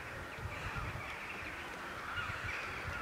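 Birds calling at sunset as they settle in for the night, crow-like caws scattered through a steady outdoor wash of chatter and hiss, moderately distant and continuous with no talk.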